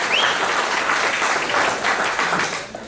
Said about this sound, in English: A round of applause for the woman and what they've brought to this country club this season.